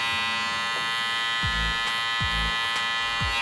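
An electric hair clipper trimmer buzzes steadily and loudly close by during a self-administered haircut, its tone shifting slightly as it works, with no talking.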